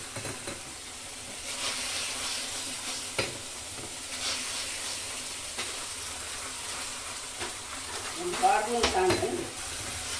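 Chicken sukka with garlic and katawa masala frying in a pan: a steady, close sizzle runs throughout, broken by occasional stirring scrapes and a brief busier clatter near the end.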